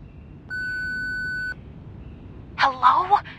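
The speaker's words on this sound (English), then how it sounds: "Please leave a message after the beep." A single flat electronic voicemail beep lasts about a second in a video game, followed by a short burst of speech.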